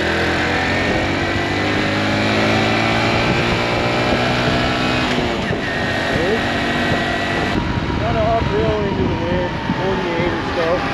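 A 2022 Honda Trail CT125 motorcycle with a four-speed transmission runs hard on a top-speed run, its small engine droning steadily and close throughout, with wind roar and a shifting tone partway through.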